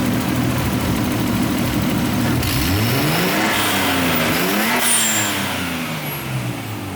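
A Nissan A31 Cefiro with an HKS Super Dragger exhaust revs from a steady idle, engine pitch climbing and falling through a couple of blips before settling back, loud and close.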